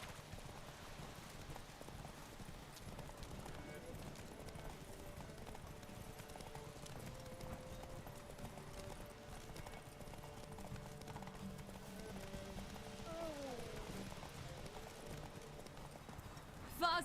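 The Witcher 3 video game: Geralt's horse galloping, with a loud, steady, rhythmic clip-clop of hooves running throughout, and occasional in-game voices talking over it.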